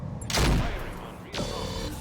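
Heavy mech weapons firing in the Roguetech battle game: a loud booming burst followed a second later by a second sharp blast with a crackling tail, close and prominent with no talking.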